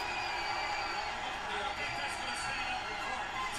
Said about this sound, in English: there's a lot of people booing